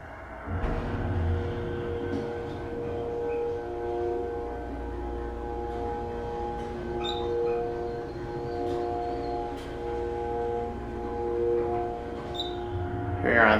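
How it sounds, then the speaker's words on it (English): A modernized Dover hydraulic elevator in a university residence hall hums steadily as its motor runs, a sustained tonal drone with faint clicks and a short chime near the end. "Let's listen to the motor."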